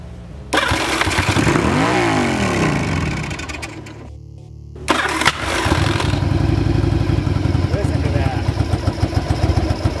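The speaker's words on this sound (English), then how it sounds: "I accidentally left it on full throttle and this thing roared to life" A Yamaha motorcycle engine roars to life at full throttle, cuts out briefly, then fires again and keeps running loud and close with a rough, clattering throttle.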